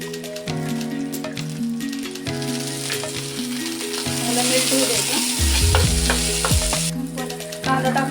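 Butter sizzling and frying in a pan for pizza pav, a continuous close crackle and hiss with scraping stirs, under a tonal background melody that runs throughout and swells toward the end.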